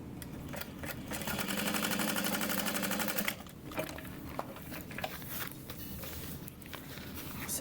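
A sewing machine stitches a bag in a steady, close mechanical whir that runs for about three seconds, then gives way to irregular handling clatter and short bursts of stitching.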